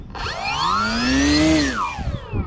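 A small electric motor on an RC P-51D Mustang model plane whines up in pitch as the throttle rises, holds a high buzzing tone, then winds back down.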